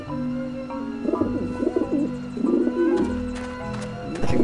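Pigeons in the game Grim Fandango Remastered coo in repeated warbling bursts over a steady tonal background, close and clear with no talking.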